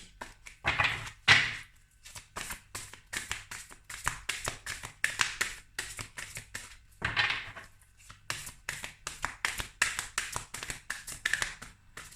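Tarot cards shuffled by hand, a run of sharp, close riffling taps and flicks in uneven bursts with brief pauses, loud and alone without voices.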